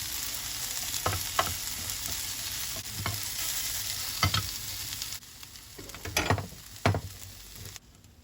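Steady oil sizzle from peppers frying in a pan, with a utensil stirring and scraping the pieces every second or so, close up and fairly loud.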